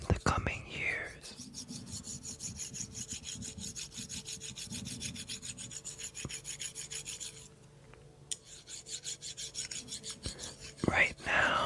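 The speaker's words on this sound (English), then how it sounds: "let's rub some sticks" Wooden sticks rubbed together in a slow, close rasping scrape, steady and continuous for several seconds with a brief lighter pause, alone without talk.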